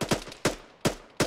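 Gunfire during a military exercise by the 15th MEU: four sharp, loud shots spaced roughly every 0.4 seconds, each with a short decaying tail, close by with no talking over them.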